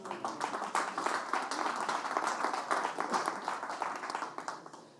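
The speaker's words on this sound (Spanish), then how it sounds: "¿cuántos le dan un aplauso al Señor?" Church congregation applauding during a sermon, a dense patter of many hands that swells quickly, holds steady, then tapers off near the end, fairly distant in a large room.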